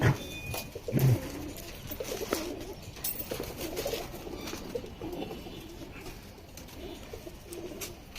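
Soft, low pigeon coos repeat throughout in a pigeon loft over a quiet, slightly noisy background, with a brief flutter near the start.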